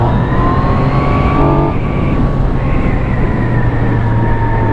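A 2017 Yamaha MT-09 motorcycle engine holds a loud, steady high-revving drone with rising and shifting engine tones, close and alone over constant road and wind roar.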